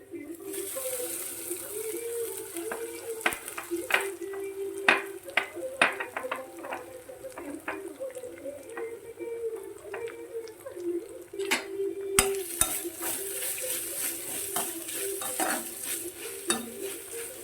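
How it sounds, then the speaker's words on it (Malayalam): Repeated scraping and stirring of a spoon in a pan over a soft sizzle as grated coconut roasts to golden brown, with clinks of metal at irregular intervals, close by. "ഒരു ഗോൾഡൻ ബ്രൗൺ ആകുന്നിടം വരെ ഇത് വറുത്തെടുക്കണേ"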